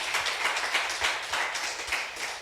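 A church congregation claps for the king, producing a quick, continuous patter of many hands that is close and moderately loud and carries no speech.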